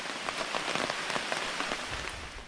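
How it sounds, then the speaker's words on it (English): Heavy rain pours down on the Appalachian Trail in Maine, a dense, steady patter of drops striking nearby surfaces with no voices, loud and unbroken throughout. "But it's raining pretty good."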